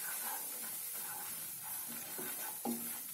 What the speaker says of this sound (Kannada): ಈ ಕಡಲೆ ಹಿಟ್ಟು ಕೂಡ ನಾನು ಹಾಕ್ಕೊಂಡು ಫ್ರೈ ಮಾಡ್ಕೊಳ್ತೀನಿ